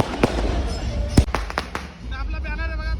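Fireworks at a Bhim Jayanti celebration crack in several sharp, loud bangs over a crowded background, with people talking and voices rising throughout.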